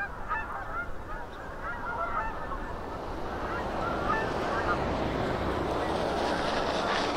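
Many Canada geese honk continuously in a noisy flock at a distance on a snowy winter day, their calls overlapping over a rushing background of wind.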